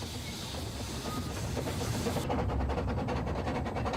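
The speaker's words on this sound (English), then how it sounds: "This little train worked tirelessly" Wee Georgie, a small train that hauled people, goods and ore to the Emu Bay line, runs with a rolling rumble and faint rhythmic clatter, steady and moderately loud, with no voices.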